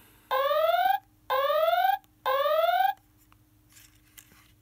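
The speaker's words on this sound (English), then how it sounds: "the sound is an electronic alarm." A SmartLab Smart Circuits sound module sounds an electronic alarm: three loud, rising, sweeping tones, each under a second, separated by short gaps, followed by quiet.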